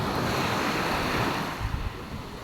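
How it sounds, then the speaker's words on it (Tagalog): A river's water rushes steadily nearby in a calm outdoor area with pine trees, a continuous broad roar mixed with wind buffeting the microphone, with no talking. "Yan yung ilog."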